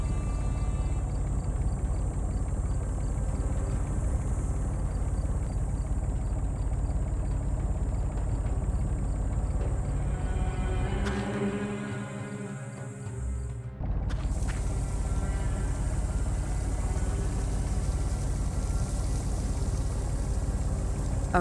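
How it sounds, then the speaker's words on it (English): An engine in the game Secret Files 3 runs as a steady droning hum throughout, dipping briefly midway before resuming at an even level. "that might be the engine I heard in the video"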